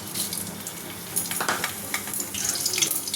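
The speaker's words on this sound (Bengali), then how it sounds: "তেল গরম হয়ে গেছে, এবার দিয়ে দেবো ফোড়ন, শুকনো লঙ্কা, জিরে আর কাঁচা লঙ্কা" Dried red chillies, cumin seeds and green chillies hitting hot oil in a wok, a close, steady crackling sizzle with sharper spits over a few seconds.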